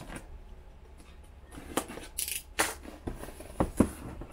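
Scissors or a blade cut open the bottom of a Kwadbox Micro cardboard box, with a quiet start followed by several sharp snipping and tearing bursts close by.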